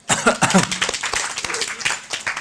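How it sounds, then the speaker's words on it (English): Audience applause in an indoor talk setting, a short burst of scattered clapping from a crowd that starts abruptly and tapers, with some voices mixed in. "Round of applause for him."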